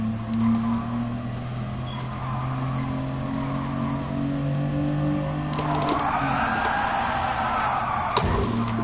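A car in Gran Turismo Sport revs its engine through an attempted power slide, a loud droning tone that climbs and sweeps upward midway, with tire-scrub noise and a brief thud near the end.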